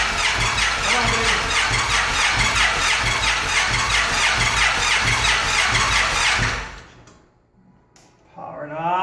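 Supercharged 2013 Victory Cross Country motorcycle cranking over: a loud, rapid, rhythmic starter churn for about six seconds that stops abruptly, followed by a brief quiet and a short voice.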